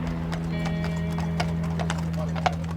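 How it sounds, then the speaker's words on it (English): Hooves of a horse pulling a horse-drawn funeral carriage clop in a slow, even rhythm over a steady low engine hum, with a faint whinny. "the family transfer Mikey to a horse-drawn carriage to begin the final walk to the cemetery"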